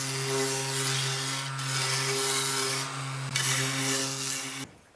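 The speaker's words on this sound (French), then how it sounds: "Je vais passer un coup de ponçage pour casser ça là" Steady rasping strokes of a power sander work the edges of a wooden French cleat, a constant abrasive hiss over a droning motor hum that briefly stops and restarts before cutting out near the end.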